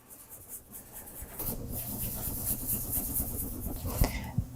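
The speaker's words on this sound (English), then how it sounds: "just apply a thin layer and rub it in to color your wafer paper" A brush rubs pink color onto wafer paper for cake decorating, giving soft, close scratchy strokes that grow steadier after the first second, with a couple of small taps near the end.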